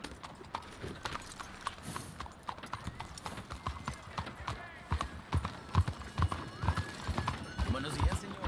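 Horse hooves clip-clop steadily in Red Dead Redemption 2, growing louder toward the end, with a brief whinny; a voice talks over it in Italian and Spanish.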